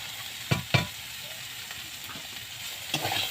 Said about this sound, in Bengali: তো চলো এটাকে ভালো করে আমি ভেজে নিই